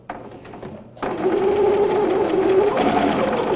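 A sewing machine stitching a simple fabric bib: a brief faint pause, then the motor starts and runs as a steady, close, loud whirring hum with a rapid needle chatter throughout.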